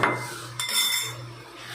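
Two eggs being beaten in a bowl, a close clink and scrape of utensil against the bowl with a sharper knock partway through, steady and fairly loud with no talk.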